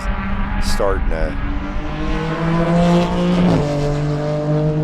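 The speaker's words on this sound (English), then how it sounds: "here comes this huge gaggle of Spec Racer Fords" Spec Racer Ford race cars at Sebring roar past in a loud, dense pack, engines layered and droning with pitch shifts as they go by, a commentator talking over the racket.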